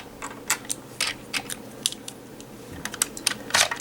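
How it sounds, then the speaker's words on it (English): Plastic Ranger keys click into a Power Rangers Super Megaforce Time Force Cycle toy in quick, irregular taps and clacks, close and fairly crisp, with no talking. "Let's insert the Ranger keys."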